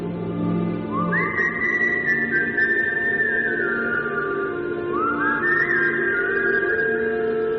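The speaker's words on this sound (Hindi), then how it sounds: "ये सुन, मेरी सीटी कैसे पलट के कोई बजा रहा है" Two long rising whistle tones, each sliding up and holding steady, the second echoing the first, over a constant low hum.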